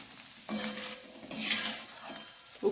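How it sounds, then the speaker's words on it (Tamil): Spicy aval (poha) breakfast stirred in a pan with a spoon: a few short scraping, rustling bursts of flakes against the metal, close and moderately quiet, with no voices. "நல்லா கிளறி விட்டுக்கலாம்"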